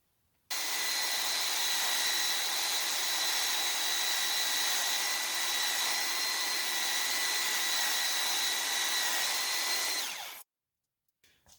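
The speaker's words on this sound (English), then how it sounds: "So the material's grinding off quite easily." A grinder wears down a Limbsaver rubber recoil pad to fit a gun stock, a loud steady high whine lasting about ten seconds before cutting off abruptly.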